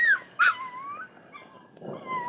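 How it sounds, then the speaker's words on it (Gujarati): A puppy whimpers and yips at night in a few thin, high cries, the first two short and sharp, then a longer drawn-out whine fading in a quiet setting. "ગલુડિયા બોલે લાગે મિત્રો"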